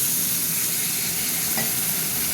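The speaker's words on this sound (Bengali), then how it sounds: "জল দিয়ে দিলাম" Water poured into a hot frying pan sets off a steady, close sizzle and hiss that holds evenly throughout, with no talk.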